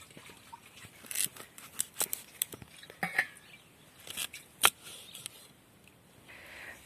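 A knife cuts pieces from a pumpkin (dangar) on a hard surface, giving sharp, irregular chopping and scraping clicks that stand out close and crisp against a quiet background.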